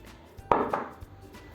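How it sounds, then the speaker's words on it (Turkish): A knife chops potatoes and onions on a kitchen board: one sharp close knock followed by a few lighter, faint taps in a quiet room. "Şimdi bunları doğrayacağım."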